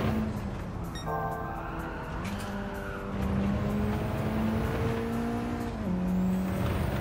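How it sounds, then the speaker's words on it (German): A Mitsubishi Lancer Evolution IX driven hard in Gran Turismo 7, its engine revving loudly and steadily with pitch shifts through gear changes and tires squealing through corners, with no talk. "das arme Auto wird hier aber auch gerade mächtig geprügelt"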